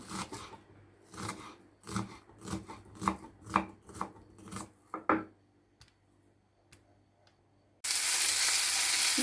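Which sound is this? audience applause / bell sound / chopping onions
chopping onions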